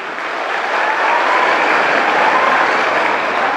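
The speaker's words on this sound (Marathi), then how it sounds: "एकदा जोरदार टाळ्या होत्या लक्ष्मण दादासाठी." An audience at a comedic public speech in Jintur claps loudly for Laxman Dada, a dense, steady roar of applause that holds at full strength for the whole stretch with no talking.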